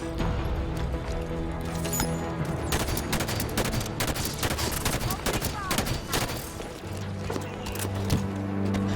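Halo Infinite gameplay with a light rifle and other weapons firing, giving dense rapid bursts of shots and impacts layered over a constant game soundtrack, loud and continuous throughout.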